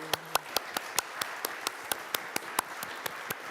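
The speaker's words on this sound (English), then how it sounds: "So a big round of applause, everyone." A small audience at a democracy forum in Caux, Switzerland claps, the sound sparse and evenly paced, with distinct sharp individual claps repeating at a steady rhythm rather than merging into a full roar.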